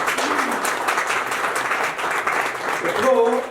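An audience claps together at a lyricist's stage event, a sustained burst of applause that swells near the end while a voice briefly rises over it.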